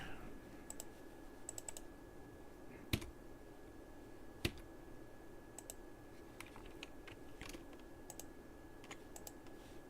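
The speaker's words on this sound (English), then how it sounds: "I'm getting keyboard input again" Computer keyboard typing with a handful of faint scattered clicks and a couple of sharper taps over a steady electrical hum, quiet and close with no talking.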